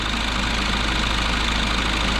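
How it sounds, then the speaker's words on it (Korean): Kia K5 diesel engine idling with the oil filler cap open, a loud, steady clattering diesel rumble that holds without a break, close to the engine bay and with no talk. "경유 차량이다 보니까 시끄러울 수밖에 없죠"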